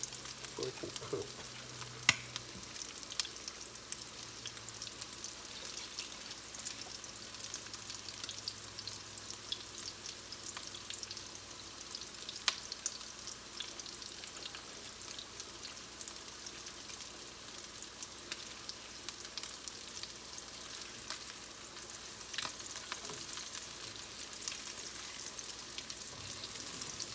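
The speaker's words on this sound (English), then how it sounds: "A little olive oil in there so it can cook." Food frying in olive oil in a pan gives a soft, steady sizzle with light crackles and a few sharper pops, heard alone at low volume throughout.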